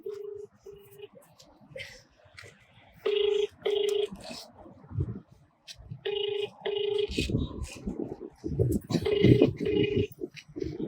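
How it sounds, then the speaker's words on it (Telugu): A phone's ringback tone beeps in repeated pulses during a farmers' protest march, with muffled voices and background clatter around it. "ఒకసారి ఫోన్ చేద్దాం"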